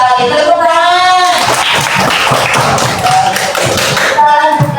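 Classroom applause from a group of students, brief clapping and tapping between a teacher's speech, fairly close with voices over it.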